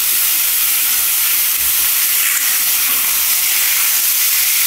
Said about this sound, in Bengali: এই ভাজাটার মধ্যে আমি কচুরলতিটা দিয়ে দিলাম